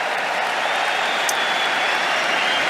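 A stadium crowd at the French Open men's tennis final roars and claps in a continuous, broad wash of noise as a Mexican wave circles the stands, loud and steady.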